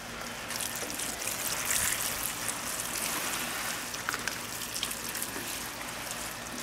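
A water-soluble fertilizer solution is poured onto garden plant soil to soak it, giving a steady, close trickling and splashing that swells slightly and then settles over several seconds.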